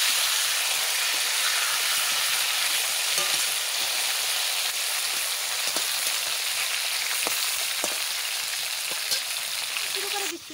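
A kokari fish head fries in a kadai, giving a dense, steady hiss of sizzling oil with scattered pops and light clicks, loud and continuous until a brief drop at the very end.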